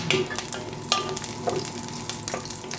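Garlic and onion sizzle in a hot frying pan for a chicken and ripe mango dish, a steady close crackle with occasional stirring scrapes, no voices.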